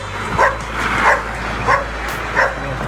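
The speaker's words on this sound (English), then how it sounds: "Dogs yelling at me." Dogs bark at a passerby on a street in Puerto Rico, with four sharp, close bark bursts spaced about two-thirds of a second apart over a low background hum.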